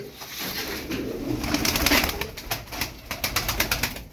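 Ankara tumbler pigeons cooing in a loft, soft repeated throaty coos mixed with rustling and light flapping, fairly close and continuous.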